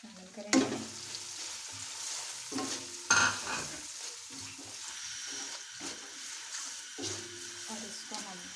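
A medium tomato fries in a pan for chicken yakhni pulao, giving a steady close sizzle with stirring scrapes and a few louder clatters, while someone talks over it.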